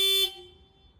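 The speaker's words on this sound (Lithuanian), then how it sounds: "Kad galėtume patikrinti garso signalą" A car horn gives one short, loud tonal blast, then cuts off and leaves a brief fading ring.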